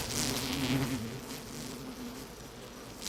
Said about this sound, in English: Above her are swarms of male wasps, all on aerial patrol.